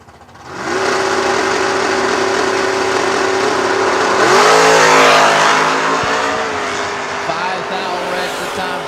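Drag racing cars, including a Kentucky-based Camaro, launching with a loud engine roar that rises sharply and revs up through the middle, then holds at a high, steady drone; a commentator's voice is faintly present.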